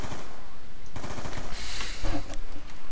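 Bursts of automatic fire from a weak, low-grade gun in Black Ops 2 Zombies, short rapid rattling volleys with brief gaps, and someone talking over the shooting.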